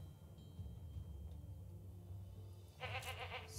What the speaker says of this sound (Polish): każda z tych kóz wydaje określony dźwięk